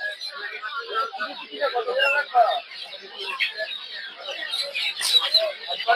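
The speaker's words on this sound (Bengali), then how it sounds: "দেখতে পাচ্ছেন এই জায়গা হচ্ছে সব ফার্মি মুরগি।" Farm chickens at a Saturday poultry market in Narsingdi make busy clucks and squawks from several birds close by, heard continuously throughout, with people chattering among them.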